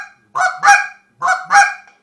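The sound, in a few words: short reed honker call imitating Canada geese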